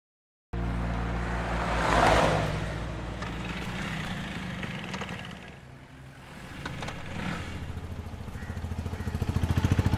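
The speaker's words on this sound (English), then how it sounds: "Oh, it's her vehicle" A car drives up, its engine rumble swelling as it nears, dipping briefly, then building again toward the end, heard alone without voices.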